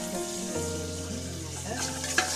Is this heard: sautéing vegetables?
yes